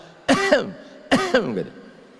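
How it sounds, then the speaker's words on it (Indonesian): Two separate harsh coughs, close by, about a second apart, each a sharp burst with a rough, throaty tail. "orang yang di dalam toilet itu kita dengar batuk"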